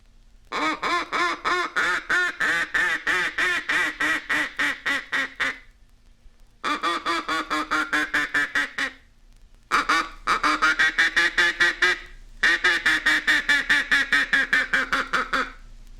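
A mallard duck call, with the hand cupped as a bell mouth and opened and closed, imitates a duck in four runs of quick, regular quacks whose tone shifts from low to higher, each run separated by brief silence.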